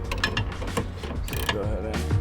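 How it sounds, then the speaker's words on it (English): A Snap-on electric ratchet whirs and clicks in short bursts while loosening a 16 mm end link on a VW GTI rear sway bar, close up in a garage. "always has on him his snap-on electric ratchet"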